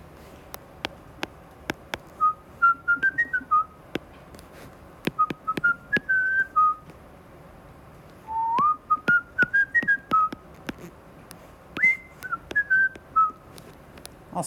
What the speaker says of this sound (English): My whistling's better.